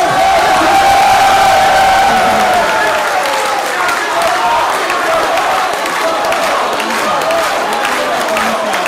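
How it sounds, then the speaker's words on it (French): A stand-up comedy audience applauds and cheers, a loud dense wash of clapping and whoops that starts at full strength and carries on throughout. "le Shinji Araki, on peut l'applaudir."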